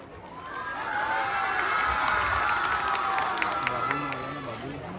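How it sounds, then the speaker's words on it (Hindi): Crowd of children and adults at a dance studio summer camp welcome event in Koradi, cheering and shouting with scattered clapping, a steady loud mass of voices across the whole stretch. "जोरदार तालियां होनी चाहिए"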